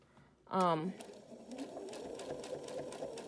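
A sewing machine stitches fabric with beige thread on a one-size scrub cap, a short loud burst of motor whir followed by steady rapid stitching, with a person talking over it.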